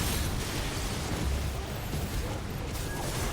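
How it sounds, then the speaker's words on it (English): Fire breath attack in Final Fantasy XVI: a loud, roaring, explosive burst of flame that fills the whole clip with a dense, rushing blast. "And just fire breath."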